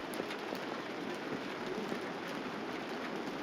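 Steady rain pelting down over a golf course during a professional tournament round, a continuous even hiss of falling drops with no breaks.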